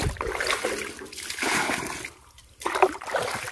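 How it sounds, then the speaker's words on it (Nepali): Water pours and splashes onto young plants on an organic farm in two close bursts separated by a short pause. "पानी हाल्यो"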